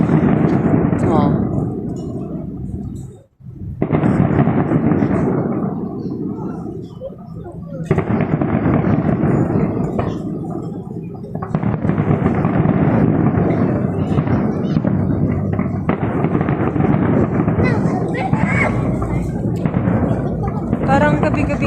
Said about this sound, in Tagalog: Parang gabi-gabi nga may fireworks dito eh.